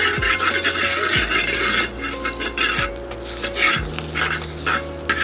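Oil sizzles loudly on a very hot tawa while frying, a dense continuous crackle broken by scraping strokes of a spatula roughly once a second.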